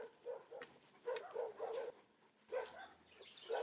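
Several stray dogs outdoors give bursts of short barks, yips and whimpers, repeated in uneven clusters at moderate distance with quiet gaps between.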